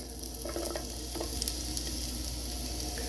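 Onions sizzling in a pan over medium heat, a steady hiss of frying with a few soft stirring taps, fairly quiet and unbroken by any talk.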